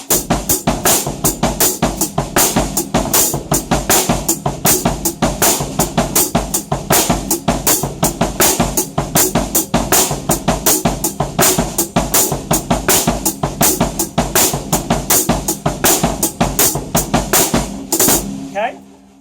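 A drum set played in a six-beat iambic long-short rhythm, loud, close, rapid hits repeating steadily for the whole span before stopping at the end.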